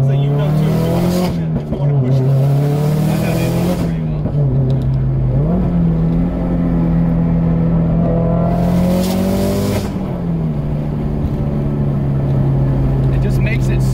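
A 400 whp Subaru WRX with an external wastegate pulls hard under acceleration, its loud droning engine note rising and falling through several gear changes, with faint tire noise and brief breaks between pulls.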